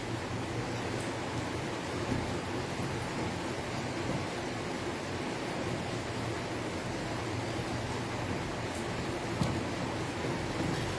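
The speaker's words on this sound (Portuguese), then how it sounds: "Tá chovendo hoje, tá?" Steady rain falling, a dense even hiss of drops with no breaks, moderately loud and alone throughout.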